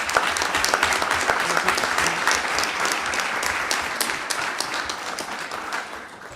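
Applause fills the room at an MTA board meeting, a loud, dense burst of many hands clapping that continues steadily for about six seconds before tapering off, with no speech over it.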